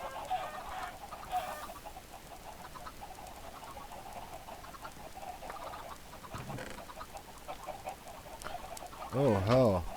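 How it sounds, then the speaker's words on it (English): Chickens cluck throughout from a Minecraft auto chicken breeder, a steady busy murmur of game fowl sounds, with a louder clucking burst near the end. "Oh, his auto chicken breeder's working good"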